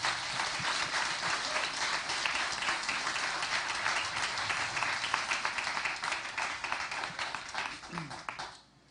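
A spelling bee championship audience gives a big round of applause for young students, dense steady clapping filling the hall for several seconds before cutting off abruptly.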